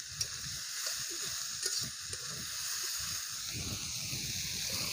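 Umbar (cluster fig) vegetable sautéing in a pan, a continuous soft sizzle with faint scraping stirs and small crackles, close and steady, with no voices.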